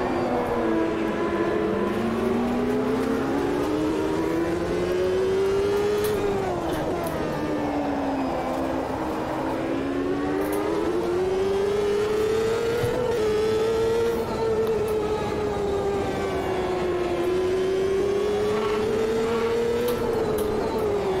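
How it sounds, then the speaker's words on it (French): Race car engine in the Automobilista 2 racing game winds up through the revs in a steady loud drone that rises and falls with gear changes, continuous throughout with no talk. "Je sens que ça monte bien dans les tours."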